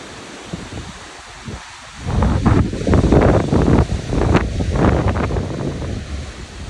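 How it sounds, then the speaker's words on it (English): Wind from a dust storm in Chubbuck, Idaho, buffeting the microphone, quieter at first and then surging into strong roaring gusts that stay loud to the end, with no voices. "We got hit with this dust storm."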